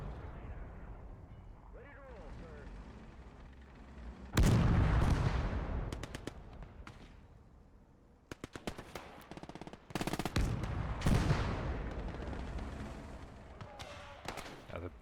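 Heavy machine gun fire from a stand-mounted MG in the WWII strategy game Gates of Hell rattles out in loud, sustained bursts with pauses between them, amid other battle noise and someone talking.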